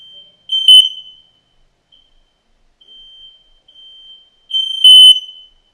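A smoke detector fire alarm in a house sounds off in loud, shrill electronic beeps, two strong bursts about four seconds apart with fainter chirps between, and no talking.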